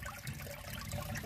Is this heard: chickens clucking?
no